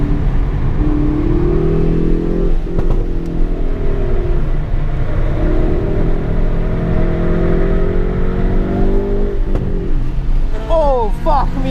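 A car engine at a motorsports park track drones steadily and loudly throughout, its pitch rising and falling as it accelerates and shifts, with a voice talking over it.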